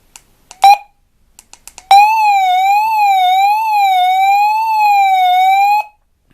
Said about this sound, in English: I was taken a bit by surprise when I pressed this SOS button